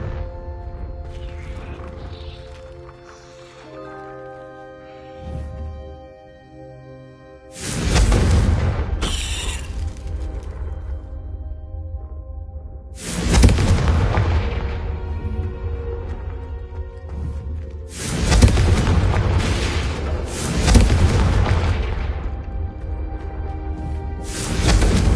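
A Confringo fire spell exploding in Hogwarts Legacy: several loud, booming blasts with long rumbling tails, spaced apart over a low musical backdrop, with no speech.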